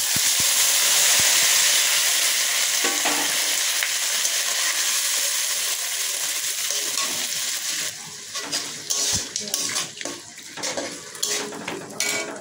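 A chopped ginger, cumin, garlic, onion and tomato masala hits a hot pan with a loud, steady sizzle, then settles into quieter frying under spoon scrapes and clinks, close up, with no talk.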